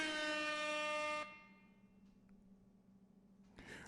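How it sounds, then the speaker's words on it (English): An air horn blast triggered from a RØDECaster Pro II podcast console's sound effect pad, loud and sustained for just over a second, then cutting off abruptly into quiet room tone. "like the air horn."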